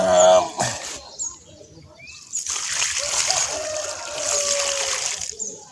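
Water is poured onto sandy soil around a newly planted lychee tree, making a close, sustained splashing and trickling. Someone speaks briefly at the start.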